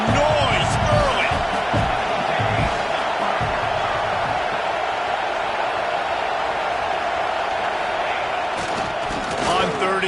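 A football stadium crowd roars continuously throughout, a dense, loud wash of cheering and noise with occasional whoops, heard beneath a commentator's steady play-by-play talk.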